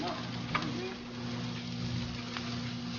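Food sizzles on a grill beside cooking steak, a constant close frying hiss under a low electrical hum, with a faint voice briefly in the background.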